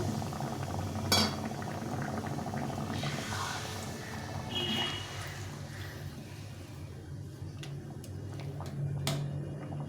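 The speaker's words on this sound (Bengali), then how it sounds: "এখন আমি এই যে জলটা ফুটিয়ে রেখেছিলাম এই জলটা দিয়ে দিচ্ছি একটু ঝোল করবো" Boiled water is poured into a pan of potato curry with lentil dumplings, and the liquid bubbles and simmers steadily at close range, with a few light clinks of utensils.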